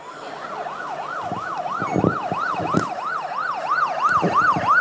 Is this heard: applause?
no